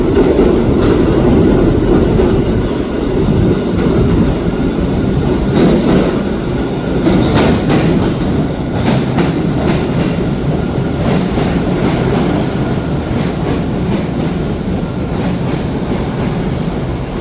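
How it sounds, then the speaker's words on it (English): A loud Blue Line subway train to Bowdoin rumbles and clatters along the tracks, wheels rattling continuously as it pulls into the station, close by. "the next Blue Line train to Bowden is now arriving."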